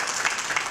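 Studio audience at a Georgian televised singing competition final bursts into dense, sustained applause, loud and close, a brief wash of clapping with no voices over it.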